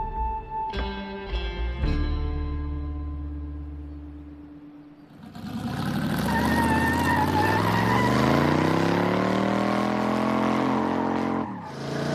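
A loud 1920s Ford T-bucket hot rod engine revs and roars steadily, rising in pitch as the car accelerates, after a few short mechanical knocks and a low idle.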